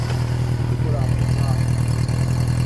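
Engine of a 1980 Suzuki GS550 four-cylinder motorcycle with a six-speed transmission running at a steady, throbbing idle nearby, a constant low rumble with light clatter while someone talks over it.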